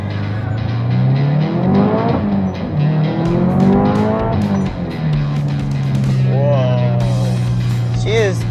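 Tuned Subaru STI engine pulling hard under acceleration, a loud close-up rising engine note that climbs through the gears in repeated sweeps, with a steady drone and tire noise beneath.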